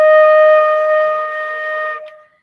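A single sustained flute note, steady and clear with strong harmonics, holds for about two seconds and then stops, played alone up close.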